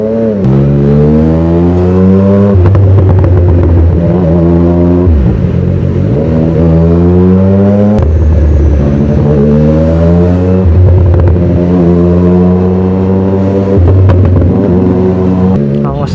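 A 2025 CFMOTO 675SR-R sport motorcycle engine revs up and down repeatedly, rising and falling in pitch as it weaves through traffic, loud and close throughout.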